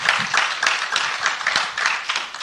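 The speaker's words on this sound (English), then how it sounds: "A round of applause for our panelists." Audience at a business partnership event clapping for a panel, a dense, even burst of applause with no voices over it.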